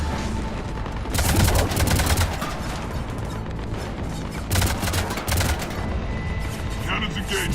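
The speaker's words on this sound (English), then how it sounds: "Cannons engaged." Rapid bursts of cannon fire in a sci-fi video game battle, loud repeated blasts clustering in two heavy volleys with dense crackling gunfire between them.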